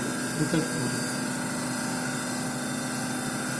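A single-phase induction motor runs with no load on a lab test bench, giving a steady, even hum with a constant tone. A brief muffled voice cuts in near the start.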